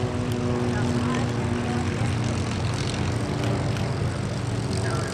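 A P-51 Mustang fighter at an airshow drones overhead, a loud, steady propeller and piston-engine roar holding throughout, with a voice speaking over it.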